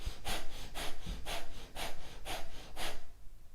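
Rhythmic, breathy inhales and exhales during a yoga staff pose exercise, about seven evenly spaced strong breaths close to the microphone with no talking, fading out at the end.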